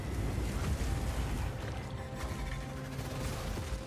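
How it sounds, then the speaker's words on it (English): A game explosion in Path of Exile 2, heard as a dense, loud, rumbling roar with grinding texture that holds steady for several seconds, with no talking. "Okay, there's the explosion."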